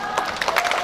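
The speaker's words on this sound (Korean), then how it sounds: "이렇게 박수 많이 쳐주시고 응원해주셔서 감사합니다" Brief burst of crowd clapping and cheering from a concert audience at an outdoor culture concert in Pohang, several quick claps and shouts blending together at mid distance.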